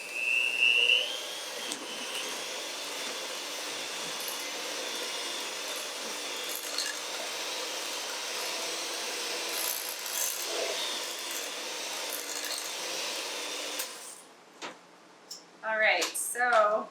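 A stand mixer beats sugar cookie dough with a steady whirring, grinding drone for about fourteen seconds, then stops, and a voice talks close by.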